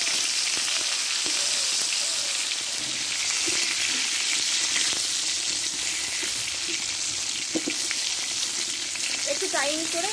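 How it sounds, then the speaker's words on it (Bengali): Pointed gourd (potol) fries in white oil in a heated wok, giving a steady, close sizzle throughout with occasional stirring scrapes and bubbling. "দেখো, কড়াটা গরম করে নিয়েছি, আমি কিছুটা যাতে সাদা তেল দিয়ে দেবো"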